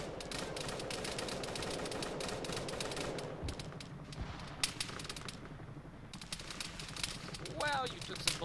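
Rapid bursts of gunfire crackle through a military shooter game, dense automatic fire at first, then thinning into scattered sharp shots with brief pauses, while voices talk over the action.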